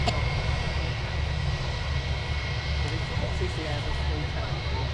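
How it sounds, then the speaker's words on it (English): A Turkish Airlines A321neo jet airliner on its takeoff roll at Manchester Airport, bound for Istanbul, gives a steady, loud broadband engine roar with a heavy low rumble throughout, and voices are heard over it. "Turkish A321neo now on the roll for Istanbul."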